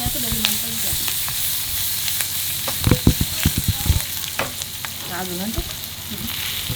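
Corned beef mixture sizzles in melted butter in a pan, a steady frying hiss with a burst of scraping stirs in the middle, close by, while people talk briefly over it.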